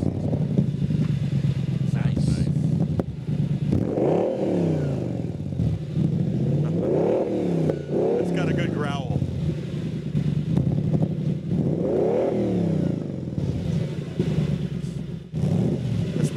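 A 2007 Spyker C8 Laviolette supercar at a car show fires up and revs hard in repeated rising and falling bursts, loud and close, with people talking over the engine.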